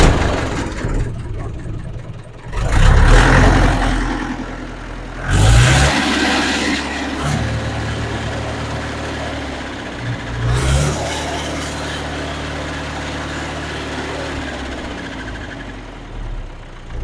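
A Mahindra tractor engine cranks and catches, revving loudly a couple of times before settling into a steady, throbbing idle close by.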